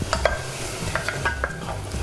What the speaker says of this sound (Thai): ผัดเนยนะคะใส่กระเทียม หัวหอมค่ะ หัวหอมใหญ่นะคะใส่เห็ดลงไปหมดเลย